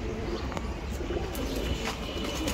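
Domestic pigeons in a loft give soft, steady cooing over a constant background hiss. The calls are faint and low, with no voices.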